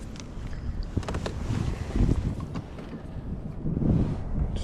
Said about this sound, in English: That southwest wind is just really making the drifts not great